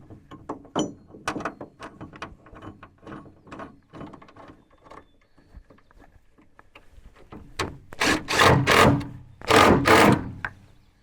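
Supplied T40 bolts driven into a mounting plate on a 2019+ Ram 2500/3500 truck, a power driver's whirring bursts and ratcheting clicks nearby, growing loud and sustained toward the end.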